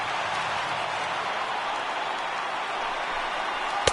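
Dense, steady roar of a crowd of over 39,000 fans on their feet in an Oakland baseball stadium in a video game, loud and continuous with a sharp clap-like burst at the end.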